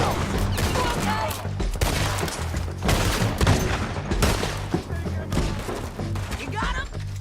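Gunfire from a Red Dead Redemption 2 shootout on PS4 Pro, a dense fusillade of rapid shots and thuds layered continuously over shouting voices.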